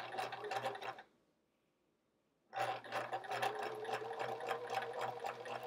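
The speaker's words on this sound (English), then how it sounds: "Sewing a straight line, still a challenge." A sewing machine stitches a straight line along a quilt's checkerboard border, a steady rapid mechanical chatter that stops for about a second and a half and then resumes at the same pace.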